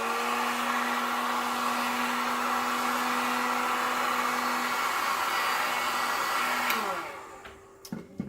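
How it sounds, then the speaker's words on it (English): Heat gun blowing steadily on an acrylic dirty pour painting in blues and orange, a loud continuous whirring hiss with a steady tone that winds down near the end, followed by a few faint clicks. "I'll heat it just a little bit."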